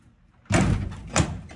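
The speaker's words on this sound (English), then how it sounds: "Push the door down." Video game door being rammed and pushed down: a loud heavy thud hits abruptly, followed by a rumbling slide and a second sharp impact about a second later.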